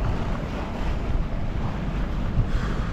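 A sailboat running under motor glides over calm water, giving a steady wash of water and wind rush that stays close and constant with no pauses.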